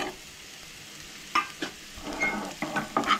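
Dry prawns being mixed with salt, turmeric and red chili in a pan for a Goan curry, a faint sizzle broken by a few short scraping stirs that grow busier toward the end.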